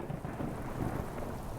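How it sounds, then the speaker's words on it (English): Steady rain hiss with deep rolling thunder rumbling beneath it, playing as ambient sound in The House of Tesla game. It is continuous and even for the whole stretch, with no talking. "I'm just sitting here listening to bloody thunder and rain."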